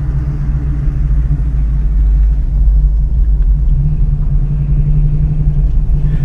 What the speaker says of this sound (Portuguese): Só aqui na WT Preparações você vê uma Challenger perseguindo um Kuda.